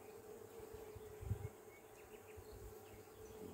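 Young honey bees hum at a hive outdoors, a faint steady drone with a brief louder swell near the middle as one passes close.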